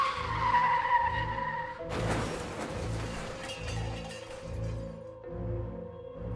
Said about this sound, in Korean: 손님이 나가자마자 브레이크를 밟는 소리가 엄청 크게 들렸대